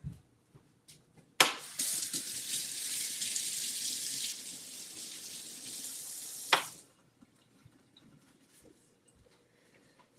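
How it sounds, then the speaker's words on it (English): Water runs from a sink tap for about five seconds while hands are washed in a home kitchen, a steady close hiss with a sharp start and stop, then quiet room sounds. "Just going to wash my hands."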